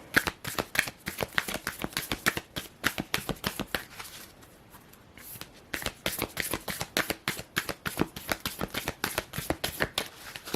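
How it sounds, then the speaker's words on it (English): Oracle cards are shuffled in a fast, regular run of crisp papery slaps, loud and close, pausing briefly midway before resuming, without speech. "let's get some oracle cards and see what Spirit has to say"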